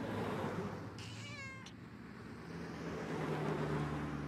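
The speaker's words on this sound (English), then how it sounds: "Man, that cat sounds just like Matt when he retches." A cat in the point-and-click adventure game Randal's Monday gives one drawn-out meow against a low, steady background hum, with quiet stretches before and after.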